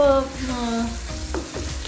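Chicken heart (dil kaleji) masala frying in a pan, giving a close, continuous sizzle with a few brief stirring scrapes and no talk over it.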